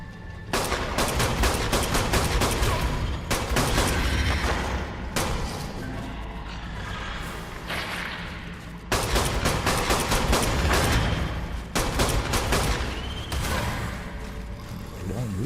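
Heavy video game gunfire from a normal gun, long loud stretches of rapid shots broken by brief pauses, with impacts and other game noise mixed in.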